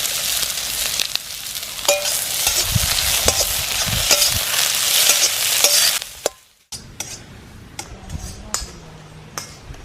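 Sliced onions fry in hot coconut oil for chicken pepper fry, a loud steady sizzle with stirring clinks for about six seconds, then a brief drop to quiet before softer sizzling and scraping resume.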